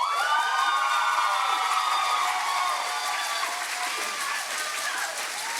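An audience at an education award ceremony fills the room with sustained loud applause and whooping cheers, a dense continuous roar of clapping with shrill shouts rising above it.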